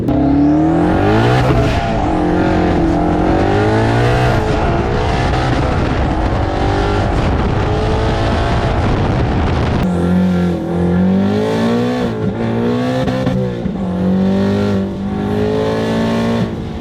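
A 900 hp twin-turbo Mustang Boss 302 launches hard and accelerates, its engine roaring loud and close through rising gear pulls with a brief shift break midway, with no talk over it.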